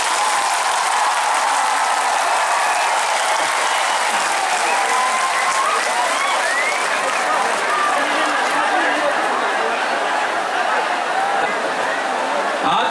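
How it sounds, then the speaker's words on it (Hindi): Sustained, dense audience applause from a large crowd at a hunger strike gathering, steady and loud for the whole stretch with cheering voices mixed in. "सबसे बड़ा ताली आपको होना चाहिए"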